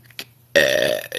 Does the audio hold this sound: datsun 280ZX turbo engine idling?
no